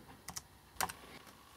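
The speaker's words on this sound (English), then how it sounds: "Now we'll use the Bluetooth keyboard to get the camera to shoot a little video clip." Several quiet, quick key taps come from a Bluetooth keyboard connected to a Raspberry Pi Zero W. The keystrokes are close and faint, arrive in small clusters, and no one speaks.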